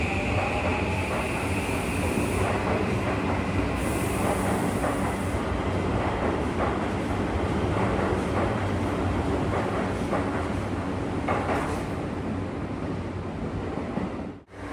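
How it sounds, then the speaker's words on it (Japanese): A train bound for Nishi-magome rumbles steadily as it pulls away from Oshiage Station, the wheels and motor noise rolling on for several seconds before fading near the end. "西馬込行きの電車が発車していきます。"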